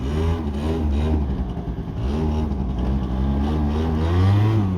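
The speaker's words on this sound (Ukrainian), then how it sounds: "Відразу відчувається, що двохтактний двигун" A Yamaha Jog SA16 two-stroke scooter engine revs up and down nearby, its buzzing whine rising and falling in pitch over a few seconds.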